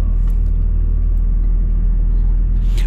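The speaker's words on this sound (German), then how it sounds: "Wir fahren jetzt wieder auf die Autobahn, auf die A9 und in Richtung Barcelona." A motorhome heading onto the A9 motorway toward Barcelona rolls along with a deep, steady low rumble of engine and road noise, loud and unbroken, with a faint brief rattle near the end.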